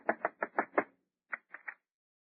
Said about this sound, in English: Go ahead, knock on the door.